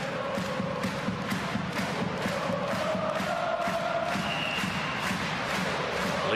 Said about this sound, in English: on their feet, chanting and clapping